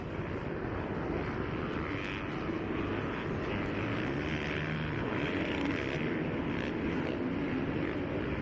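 A group of dirt bikes launches at a GP off-road race, engines droning loudly and steadily in a thick continuous roar that stays strong throughout.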